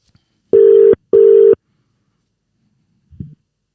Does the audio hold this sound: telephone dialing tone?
yes